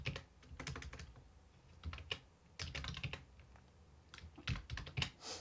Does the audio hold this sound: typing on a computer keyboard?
yes